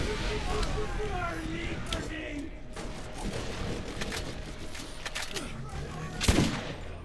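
Rocket and gunfire erupt in a Borderlands firefight, rapid bursts and blasts layered under ongoing talk, with a louder explosive boom near the end.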